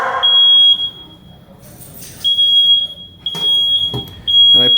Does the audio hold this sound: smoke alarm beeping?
yes